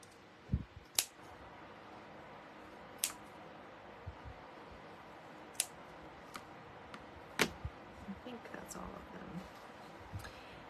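Scissors snip through stiff yarn while trimming the hair of a small Lady Liberty doll: a handful of sharp, quiet cuts spaced irregularly over a soft background.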